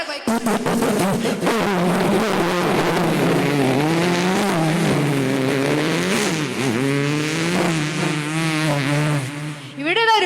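A voice imitates a motorbike roaring around a circus well of death, a continuous loud revving whine that rises and falls in pitch for about ten seconds, performed onstage at a Kudumbashree state arts festival mimicry contest.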